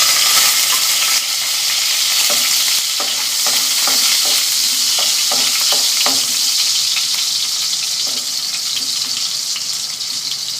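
Garlic frying in hot vegetable oil, a loud steady sizzle and crackle running the whole way, with scattered sharp pops and light utensil scrapes, no voices.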